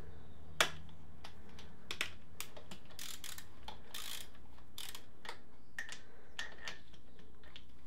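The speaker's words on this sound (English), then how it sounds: "One of them I can get undone with a ratchet, but the other one I might need to use a spanner on" A ratchet working on a starter motor bolt of a Suzuki Bandit motorcycle, giving a series of quick, close, crisp clicks in irregular bursts over a quiet background.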